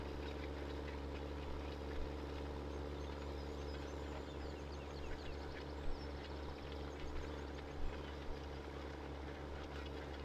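A tractor engine pulls a cultivator in Farming Simulator 17, a steady low droning rumble that holds throughout, with faint, occasional louder bumps mixed in.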